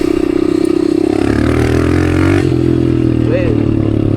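A dirt bike ridden through the desert drones loudly and steadily close up, with engine revving, some clatter and scraping, while a rider's voice is also heard.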